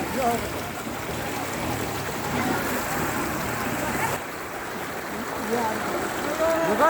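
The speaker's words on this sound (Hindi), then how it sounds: "देखिए किस तरह से पानी आ रहा है" Floodwater pours through a village in the rainy flood season, a steady broadband rush that holds fairly constant throughout, with faint voices in the background.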